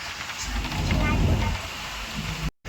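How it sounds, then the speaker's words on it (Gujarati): Heavy rain pours in a steady, loud wash over flooded fields near Gondal, with faint voices underneath before the sound cuts off abruptly. "ચાલુ વરસાદ જો ખેતરમાં પાણી ભરાઈ ગયા"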